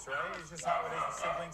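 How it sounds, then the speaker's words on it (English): A pet dog yips and barks excitedly in short bursts, close by, mixed in with someone talking over it. "Sorry for my dog spazzing out again"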